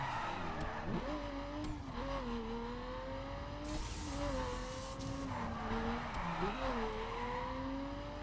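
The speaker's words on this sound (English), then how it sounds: "This is a wonderful car." Racing car in The Crew video game driving continuously with a steady, wavering engine drone, punctuated by tyre skids and squeals, loud and near throughout.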